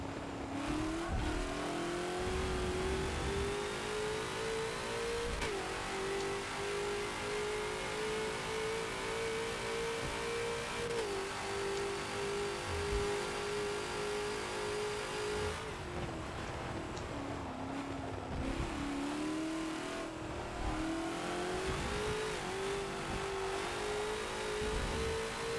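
A Ford GT40's engine in a Forza racing game at Monza revs loud and close, pitch climbing through gears with brief drops at shifts and a lift-off around the middle, alone without talk.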